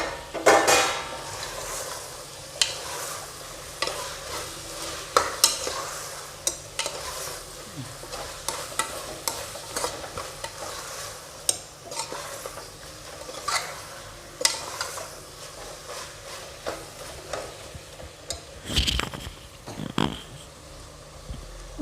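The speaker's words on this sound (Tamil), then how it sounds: "தக்காளி, புதினா, கொத்தமல்லி எல்லாத்தையும் போட்டு நல்லா வதக்க வேண்டியதான்." Tomato, mint and coriander being sautéed in a pan for mushroom biryani: a steady sizzle and fry with repeated stirring and scraping of a utensil against the pan, fairly close, with no talking.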